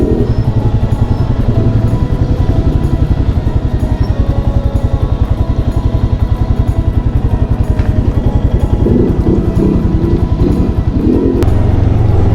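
A Royal Enfield Himalayan motorcycle engine runs steadily and loudly while riding near Alwar on a Sariska ride, a continuous close throb with a low pulsing beat and wind noise across the microphone.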